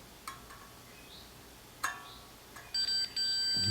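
A continuity tester on the chassis of a 1930 Philco Model 20 vacuum tube radio, giving a few short faint clicks followed by a sustained high electronic beep, broken once, when the pieces touch.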